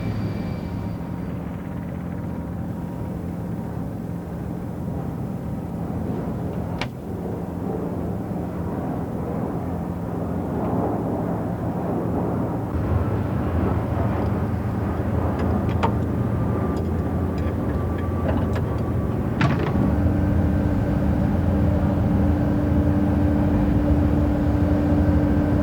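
Aircraft on an airfield flight line produce a continuous loud engine roar and turbine whine that grows heavier partway through, with a few sharp ticks and metallic clicks nearby.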